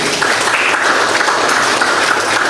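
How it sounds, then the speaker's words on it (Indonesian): Applause from a classroom audience at a mathematics teaching demonstration, steady and dense throughout, with no talk over it. "tepuk tangan buat Rizky"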